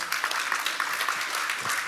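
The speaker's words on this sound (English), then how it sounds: "Let's give them a round of applause" An audience at a supply-chain conference session claps briefly, a dense, even patter of many hands at moderate volume with no voices over it.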